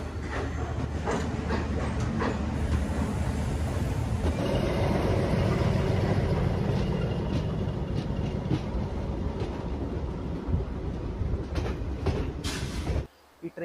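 Boat Mail Express passenger train running toward Rameswaram, heard from inside a coach as a loud steady rumble with clattering wheels on the rails, ending with an abrupt drop near the close.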